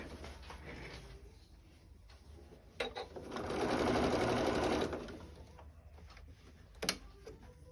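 A sewing machine stitching quilt binding runs in a steady whirring burst of about a second and a half, close and fairly quiet, with faint handling clicks before and after.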